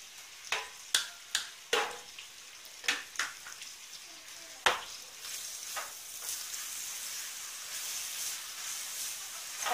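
Spices sizzle and fry in a pan of fried rice, with a run of sharp clanking stirs from a utensil early on, then a steady, fairly close hiss of frying alone, no talking.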